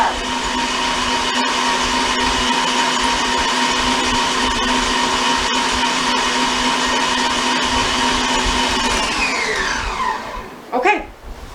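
Electric hand mixer whirring steadily through ice cream cake filling for about ten seconds, close and even-toned, then winding down and stopping, with a brief clatter at the end.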